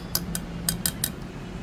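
A spoon clinks and scrapes as two spoonfuls of thick set curd go into a bowl, five short bright taps spaced unevenly over a low steady room hum, close and fairly quiet.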